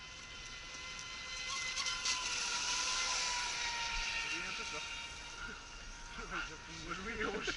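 A Traxxas Spartan RC boat races on a river with a high, whining electric motor that swells and holds, then eases off before revving again. Its pitch rises and falls, and someone talks over it.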